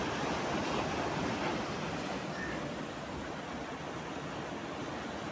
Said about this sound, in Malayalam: കള്ളക്കടലാണെന്ന് തോന്നുന്നു